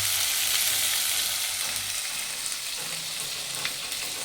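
Black masala and coriander powder sauté in oil for an egg curry, a steady moderate sizzle with light stirring scrapes and no one speaking.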